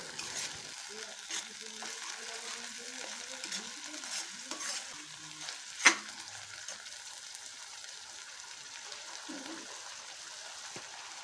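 Rajma masala paste frying and being stirred in a pan, with a soft steady sizzle and intermittent scraping stirs, fairly quiet and close, with no talking.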